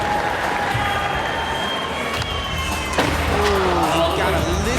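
At a Street League 2012 skateboarding qualifier in Ontario, a crowd roars steadily and continuously for a skater's frontside flip attempt, with a commentator talking over it and a board clatter in the mix.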